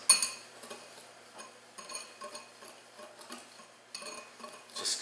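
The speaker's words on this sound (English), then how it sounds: "And then you want to whisk this" A whisk stirs dry cinnamon, ginger and cloves in a bowl, giving light clinking taps in irregular bursts, quiet and close with no voices.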